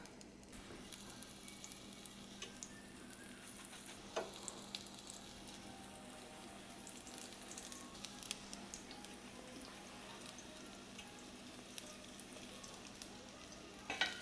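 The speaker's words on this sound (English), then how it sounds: "They're frying up really fast, so I think I'm going to turn my heat down just a little." Steady sizzling and crackling of onion patties frying in hot oil, soft and continuous with occasional small pops.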